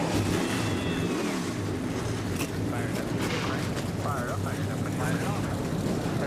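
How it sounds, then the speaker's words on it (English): NASCAR race cars starting up together at Darlington, a dense, loud, continuous engine roar with rumbling and revving that fills the whole stretch, while a voice talks faintly underneath. "Drivers, start your engines."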